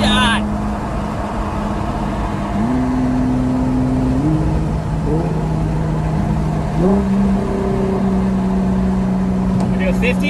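A car engine in a GTR versus Q60 launch revs and accelerates loudly at close range, its pitch stepping up through rising gear-like climbs, with a brief higher whine near the start and end.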